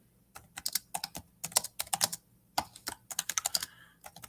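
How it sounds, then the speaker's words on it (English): Close-up typing on a computer keyboard, quick irregular bursts of key clicks with brief pauses between. "Typing right now, so kind of give me a second."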